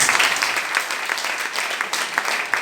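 Worshippers in a church clap and applaud together after a thanksgiving testimony, a continuous, fairly loud wash of many hands with a few sharper individual claps poking through.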